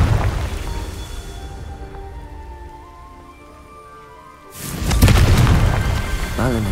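A Confringo blasting spell from Hogwarts Legacy goes off as a loud, broadband explosive burst about two-thirds through, following a quieter stretch of magical ambience and tones, and then sustains with a crackling, rumbling tail.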